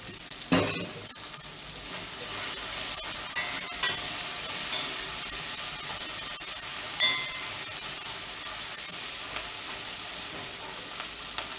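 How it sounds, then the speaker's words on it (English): Seasoning with thyme sautés in a pan for Jamaican fricassee chicken, a steady bright sizzle running throughout, broken by a few sharp clinks and taps of a utensil against the pan. "And I'm gonna saute this seasoning."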